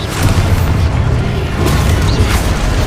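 A loud, sustained blast from the Expulso explosion spell in Hogwarts Legacy, with dense crashing rumble and debris-like crackle filling the whole short stretch.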